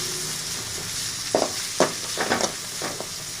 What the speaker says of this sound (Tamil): வெங்காயம் போட்டுக்கலாம். வெங்காயம் வதங்கணும்.